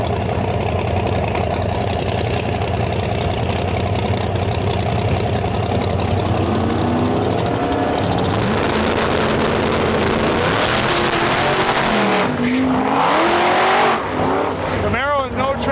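Drag race cars, including a Camaro, roar at a no-prep shootout, with loud engines rumbling steadily and then revving and surging as they launch, while a commentator's voice talks over the din.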